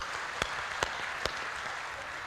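Audience applause at a Hindi poetry gathering and comedy show, a steady wash of clapping with a few sharper claps standing out, fairly distant and moderate in level.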